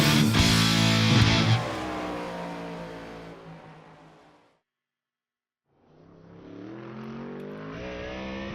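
Ford Mustang GT3 race car in a racing video game at the Long Beach street circuit, its engine revving loudly, then winding down to near silence before rising again.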